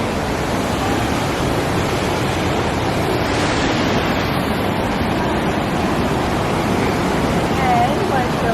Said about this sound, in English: we're here by the waterfall, and this is how it looks like